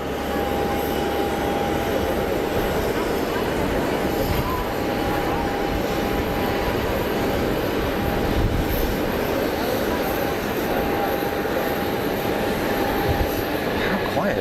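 Swiss airliner at Geneva Airport with its jet engines spooling up, a broad steady roar with a faint thin whine, heard from a distance over wind and background noise.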